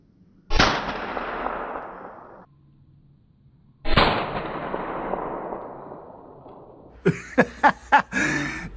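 A glass airsoft BB fired into mesh goggles: two loud sharp impacts, each trailing off over about a second and a half, followed by a quick run of four or five smaller cracks near the end.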